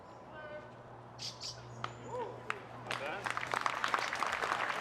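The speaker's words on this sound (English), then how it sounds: "He's getting some claps." Scattered applause and claps from a disc golf tournament gallery on an outdoor course during a final round, building in the second half of the clip with light voices and bird chirps in the background.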